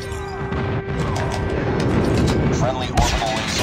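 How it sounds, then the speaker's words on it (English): Friendly airstrike landing in Call of Duty Mobile: a rolling rumble of explosions builds under a voiced game announcement, with a sharper blast near the end, moderately loud and dense. "Friendly airstrike incoming."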